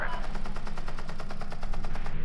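Rapid machine gun fire from a helicopter attack in a film trailer hammers out in a steady, fast stream of evenly spaced shots, loud and continuous throughout.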